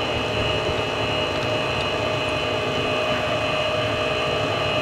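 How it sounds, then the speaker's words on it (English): Mini lathe turns metal at 722 RPM, a continuous close motor whine and hum with a steady tonal drone and faint cutting noise throughout, no voices. "You guys get to see a bit of machining here."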